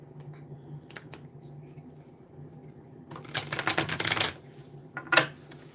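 Rider-Waite tarot cards are handled and shuffled up close, with a few isolated flicks early on and then a dense second-long riffle of papery slaps, followed by one last snap.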